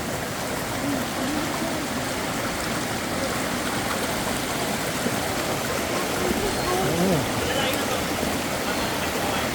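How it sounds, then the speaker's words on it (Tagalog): Steady rushing and splashing of water as people wade across a stream on a trek to Ditumabo Falls in Baler, Aurora, with brief voices in the background. "tumatawid kami sa tubig"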